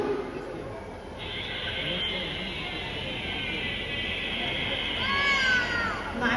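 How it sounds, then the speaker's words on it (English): A binturong, the Asian bear cat, calls at a night safari show in Singapore, a sustained nasal whining cry that swells near the end over a murmuring crowd and background chatter. "That cross between a bear and a cat is Nanya, our Binturong, also known as an Asian bear cat."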